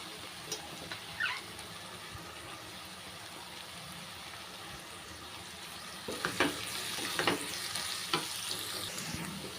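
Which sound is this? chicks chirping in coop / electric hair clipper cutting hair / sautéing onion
sautéing onion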